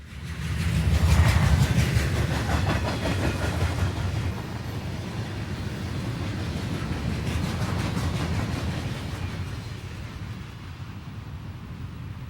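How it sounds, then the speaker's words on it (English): A CSX eastbound manifest freight train led by SD50 locomotive 8585 rumbles out of Graham Tunnel in West Virginia, a steady low roar with rolling wheel clatter that stays loud and close throughout. "An eastbound manifest exits the tunnel headed by SD 50 number 8585."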